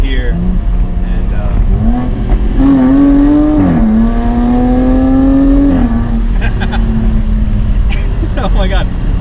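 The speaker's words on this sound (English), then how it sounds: "the perks of having the top down is the exhaust note" A 2019 Jaguar F-Type sports car with the top down growls loudly and close as it downshifts, its exhaust note rising in pitch through revs, then settling into a steady drone with faint crackles; a voice speaks briefly over it.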